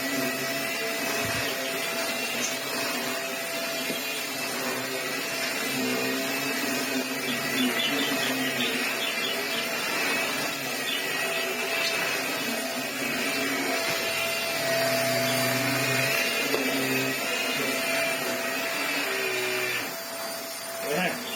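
Vax Air Stretch upright vacuum cleaner running continuously with a steady motor whine and hum throughout, close by, with a faint rattle near the end.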